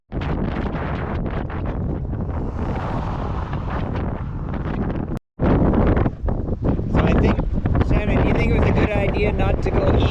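Strong wind blowing over cyclists on a road in Portugal, a loud roaring buffet across the microphone that drops out for a split second, then returns as fierce gusting with someone talking over it.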